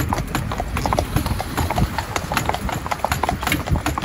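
Horses walk at a relaxed pace on a hard surface, hooves clip-clopping in a steady, close, overlapping rhythm.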